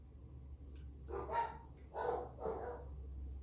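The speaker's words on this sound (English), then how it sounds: "You can hear my dogs that I put in a different room" Dogs bark three times from another room, muffled and somewhat distant through a wall, over a low steady hum.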